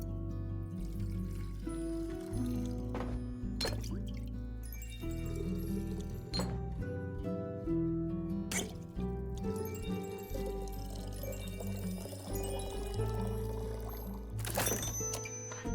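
Drink poured at the bar in the tavern-management video game Tavern Talk: a soft, continuous liquid pour runs under layered background music, punctuated by a few glassy clinks and brief sharp accents.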